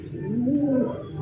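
A single soft, low pigeon coo rising and falling over about a second, close by, with faint background hiss.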